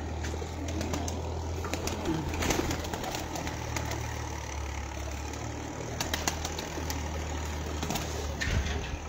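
Low pigeon coos repeat steadily at a pigeon-keeping loft over a constant low engine-like hum, with occasional faint bird chirps nearby.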